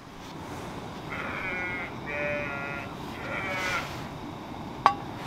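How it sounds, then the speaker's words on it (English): Sheep bleat in wavering calls from a short distance at an island wild camp, three drawn-out cries over steady outdoor background noise, followed by a brief sharp click. "Morning, sheep."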